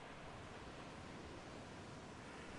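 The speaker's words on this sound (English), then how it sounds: "immediately dissipating into quiet rustles of wind and distant waves" Quiet, steady wind rustle with distant ocean waves washing in a continuous broadband hush, faint and unbroken throughout.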